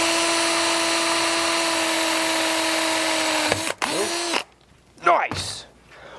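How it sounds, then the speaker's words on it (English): A power drill boring out an engine oil passage whines at a steady high pitch for several seconds, then stops; short bursts of noise and a brief spin-up follow, close by. "we're gonna drill this out just a hair to get a little bit more oil flow"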